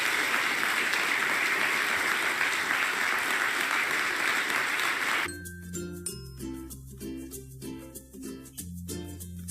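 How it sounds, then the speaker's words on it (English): Audience applause at the close of a lecture on the Fukushima nuclear accident, a dense sustained clapping that fills the first half and then gives way abruptly to tonal music with clinking notes. "one last round of applause"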